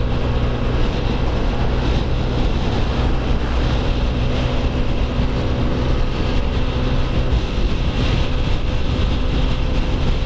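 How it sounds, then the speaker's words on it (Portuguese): A Yamaha NMAX scooter passing a truck on the Dutra highway, a constant loud roar of engine and wind buffeting, steady and close for the whole stretch, with no clear separate pass-by. "Vamos passar aqui o caminhão"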